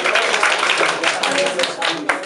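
An audience claps at a school kindergarten-graduation show in Biały Dunajec, with scattered, uneven claps sounding under a speaking voice throughout.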